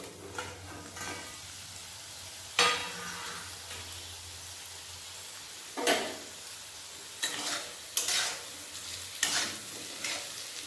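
Potatoes sizzle gently in oil while a utensil scrapes and stirs them in several sharp, separate bursts.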